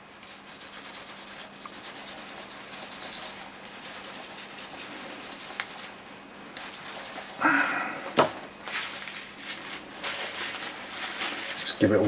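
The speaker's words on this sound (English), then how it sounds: "the gas block is pretty much as clean as I can get it. It really does need a bit of a scrub" A Hatsan MPA air rifle gas block is scrubbed clean, with continuous close rasping strokes and a few sharper knocks, and someone talks over part of it.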